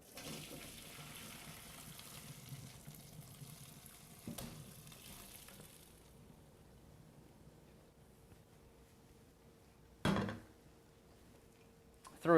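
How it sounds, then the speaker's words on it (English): Blanched green beans drained from a pot taken off the stove, with a lemon piece in the water: a steady hiss of pouring water runs through the first half, then fades to quiet, broken by a short splashy burst near the end. "we're going to take this off the stove now and drain it"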